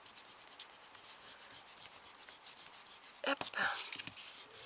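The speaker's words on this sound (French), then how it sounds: "il faut pas oublier de gommer là" Pencil eraser rubbing back and forth on a paper card, soft faint scratchy strokes in quick bursts, growing briefly louder near the end, with one short spoken word.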